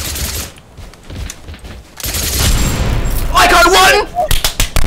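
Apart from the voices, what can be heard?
planted dynamite exploding in a video game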